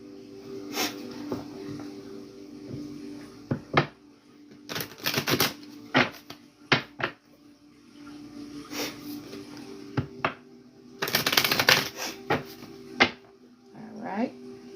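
A tarot deck is shuffled in irregular bursts of crisp card riffles and snaps, some brief and some longer, over a low steady hum at moderate loudness.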